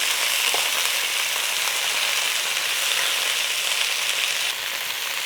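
Beef for cottage pie browns in a hot pan, giving a loud, even, continuous sizzle close up with no talk over it.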